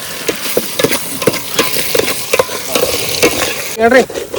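Steady sizzling and frying of ginger garlic paste in a pan with scattered crackles and the scrape of stirring, ending in a brief louder burst of activity.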